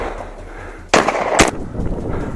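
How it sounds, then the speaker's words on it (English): Two sharp, loud gunshots fired in quick succession during a wild boar hunt in snowy hills, each a sudden crack with a short trailing echo over a quiet outdoor background. "gunshots rang out in rapid succession"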